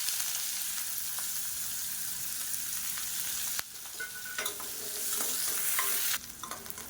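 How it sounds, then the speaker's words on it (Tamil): Chopped onions with curry leaves and urad dal frying in an oiled pan, a steady close sizzle with stirring scrapes, briefly quieter mid-way before the hiss surges back. "ஒரு கைப்பிடி அளவுக்கு பொடியாக நறுக்கின வெங்காயம் சேர்த்துக்கலாம்"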